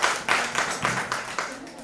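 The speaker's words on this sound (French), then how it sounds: "Bravo, on applaudit." Schoolchildren clap for the winning class at a French-language school quiz contest, a short burst of loose, fairly quiet applause in a room with no talk over it.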